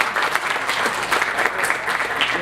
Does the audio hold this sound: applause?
yes